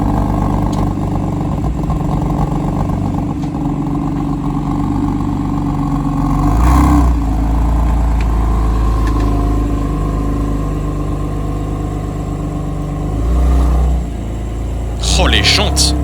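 BMW M4 GTS idling, a steady deep engine rumble with a couple of brief swells in revs, heard close and continuous, while people talk over it.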